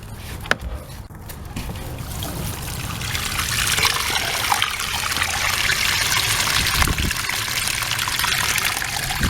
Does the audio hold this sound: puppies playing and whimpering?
no